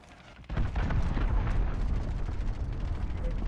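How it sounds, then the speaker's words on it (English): Cruise missile strike explosions in Call of Duty: Modern Warfare start as a sudden heavy boom. A dense, rumbling barrage of blasts and gunfire follows and holds loud throughout. "Allied cruise missile launched."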